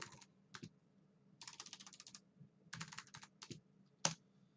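Bursts of keystrokes on a computer keyboard while a password is typed during server software setup, quick clustered taps separated by short pauses and ending in one sharp louder key press, close and clear with no talking.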